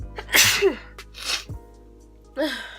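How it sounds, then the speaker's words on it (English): A single loud, close sneeze bursts out with a sharp intake before it, followed by a short breathy exhale, with no talking. "Hold on, I gotta sneeze."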